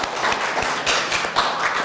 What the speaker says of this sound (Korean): 박수를 다시 한번 드리시고요